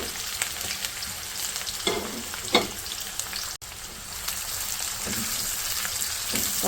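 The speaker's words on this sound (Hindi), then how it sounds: "सारी चीज़ों को अच्छे तरीके से फ्राई कर लेंगे" Bay leaf, cumin and dried red chillies frying in about half a cup of hot oil, a steady close sizzle with a few brief scraping stirs, no voices.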